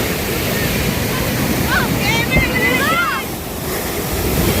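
Ocean waves crash and churn in a constant loud roar on a shore, with wind rumbling across the microphone and brief faint calls or voices in the background.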